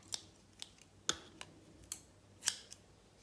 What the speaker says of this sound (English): I'm just going to cut this yellow yarn